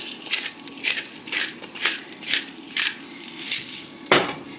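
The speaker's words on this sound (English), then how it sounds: "Now we are just going to whisk that in" A whisk strokes flour, salt and pepper into a roux in a pan over medium heat, giving a run of regular scraping swishes about every half second, close and fairly loud, with one sharper clink near the end.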